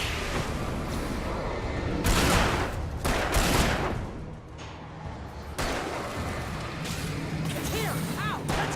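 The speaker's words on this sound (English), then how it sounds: "Shooting" Gunfire in the video game Alan Wake, repeated loud bursts of shots with crashing impacts and whooshes across several seconds, dense and close, with a few brief lulls between volleys.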